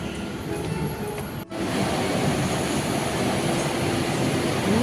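Interior rumble of an electric skytrain ride in Bangkok: a steady, loud rolling roar of the carriage in motion with a brief dip near the start, continuing unbroken to the end.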